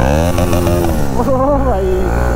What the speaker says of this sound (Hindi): एक बार मैं इसको बोलता हूँ, रेव करियो, रेव करना, रेव।